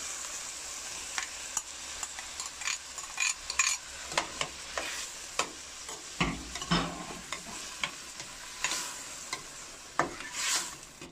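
Chopped tomato frying in a hot pan for a fresh fava bean soup, a steady sizzle broken by repeated scraping strokes of a spoon stirring close by, with no voices.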